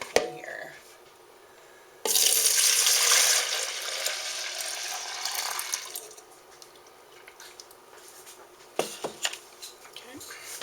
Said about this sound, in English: Pour the milk in here